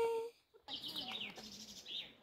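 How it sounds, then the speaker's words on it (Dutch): Many birds chirp and sing in woodland during a hike near Achouffe, with quick, bright tweets overlapping across the clip after a brief pause, fairly faint and without talking. "Je hoort het ook, er zijn heel veel vogels."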